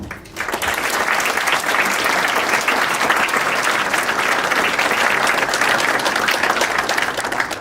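An audience at an awards ceremony for young achievers gives the laureates loud, sustained applause that starts suddenly and holds steady throughout, many hands clapping at once.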